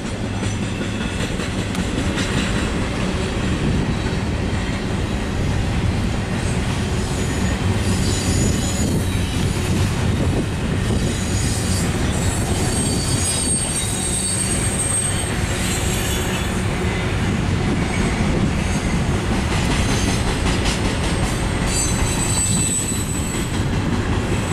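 Long, loud rumble of a train rolling along the tracks, with wheels squealing and rattling throughout at close range.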